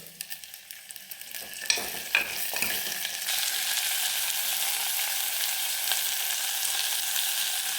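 Curry leaves, ginger, garlic and green chili fry in hot oil for a pulisseri, a brief stir and clatter giving way to a steady, close, continuous sizzle with no talking.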